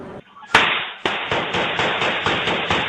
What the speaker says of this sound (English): Gunshots ringing out.